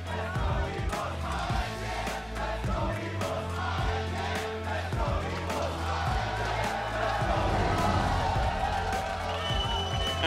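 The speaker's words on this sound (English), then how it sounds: "Let's hear you cheer for your teams." A large esports arena crowd at the League of Legends MSI 2018 main event cheers, yells and whoops continuously in a dense roar, with an announcer's voice mixed in.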